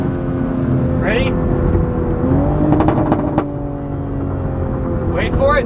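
A 2021 Toyota Supra fitted with a downpipe and air intake drones steadily with loud engine noise, rising in pitch in a couple of short rev blips on downshifts, heard from inside the car.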